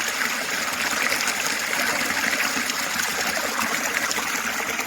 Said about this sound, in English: I'm just filtering myself some water.